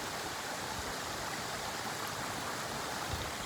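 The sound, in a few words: small waterfall on Stair Gulch Trail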